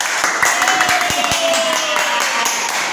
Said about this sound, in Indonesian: Tepuk tangan yang banyak